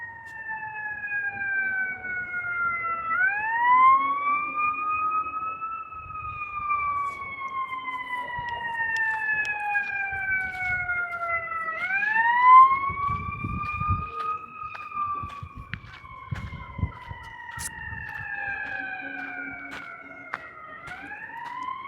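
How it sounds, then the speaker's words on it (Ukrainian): A fire engine siren wails in long rising and falling sweeps, fairly distant and steady, over low background rumble with no talk. "Це пожежники, фаєрфайтери."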